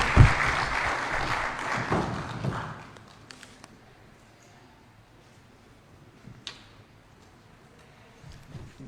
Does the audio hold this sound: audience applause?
yes